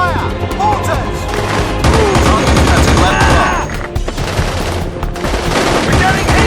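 Automatic weapons fire in the PS2 game Battlefield 2: Modern Combat rattles in loud, dense, overlapping bursts, with shouted voices mixed into the battle noise.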